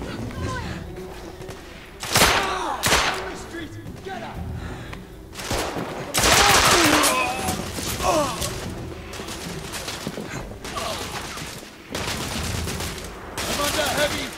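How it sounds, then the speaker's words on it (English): Enemy gunfire in The Order: 1886 erupts in repeated bursts of sharp shots and loud volleys, spaced a couple of seconds apart, with someone talking between them. "there are people shooting at me from in here"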